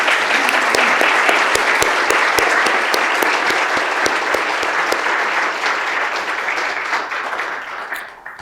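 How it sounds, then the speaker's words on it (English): A Supreme Court panel event audience gives a round of applause, a loud full burst of many hands that gradually thins and fades toward the end. "let's give our panel a round of applause for a job well done."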